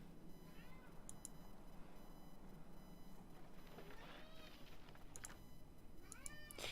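A house cat meows repeatedly, several drawn-out rising and falling cries, faint and somewhat distant over a low background hum, with a few short sharp clicks between them.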